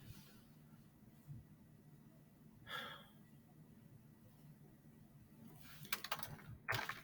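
Quiet computer keyboard typing, a few scattered soft key clicks with a short clustered burst near the end, faint against a low room hum, no talk.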